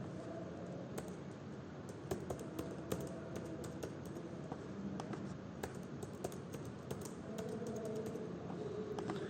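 A new password is typed on a computer keyboard as a fast, steady run of close key clicks lasting several seconds, with faint room hiss beneath.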